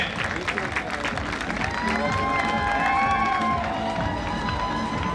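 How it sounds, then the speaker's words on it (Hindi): Crowd applause at a kho kho league final, with continuous clapping and scattered cheers, voices and shouts mixed into the steady noise throughout. "एक बार सुल्तान के लिए जोरदार ताली बजाई जाए"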